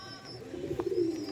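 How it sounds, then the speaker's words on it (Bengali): A pigeon being handled and turned over lets out a soft, low coo that swells near the end, close and moderately quiet, with faint loft ambience. "একটু উল্টে দাও দেখি পায়রাটা, লেগ দুটো নিয়ে নি।"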